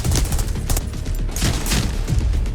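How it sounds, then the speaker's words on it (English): A grenade launcher and other gunfire boom in rapid bursts in a Tarkov-like shooter game, loud and close, with several overlapping shots and blasts over about two and a half seconds and no talking. "They did add the grenade launcher."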